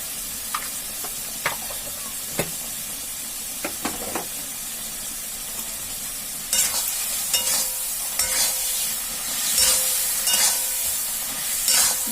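Rohu fish curry with mustard, salt, chili powder and turmeric is stirred in a pan. Scattered scrapes at first give way to a louder, steadier sizzle and hiss with repeated stirring strokes.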